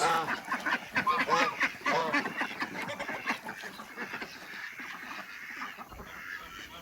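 Waterfowl pen of geese and marreco ducks, some crested with pompoms, honking and quacking in a dense overlapping chorus that fades somewhat toward the end.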